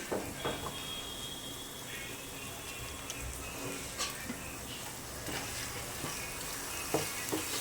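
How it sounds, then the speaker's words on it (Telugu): Masala paste fries in oil for a chicken curry, making a soft continuous sizzle with occasional light stirring clicks, fairly quiet and close, with no talk. "సో ఈ మసాలా పేస్ట్ కూడా బాగా పచ్చి వాసన పోయేంత వరకు బాగా ఆయిల్లో వేపుకోవాలి."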